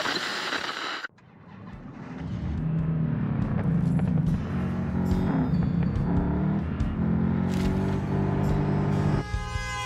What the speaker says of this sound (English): The roar of 2 cars snaps you back to reality.